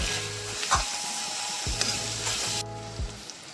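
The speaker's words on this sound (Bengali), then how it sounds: "আর দিয়ে দেবো লঙ্কার গুঁড়ো দু চামচ ভালো করে নেড়ে চেড়ে আবার একটু কষিয়ে নেব" Chilli powder and spices fry with a steady sizzle in a pan while a utensil stirs and scrapes through them, the stirring strokes coming in a few brief bursts, close and alone without voices.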